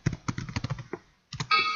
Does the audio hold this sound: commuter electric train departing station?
no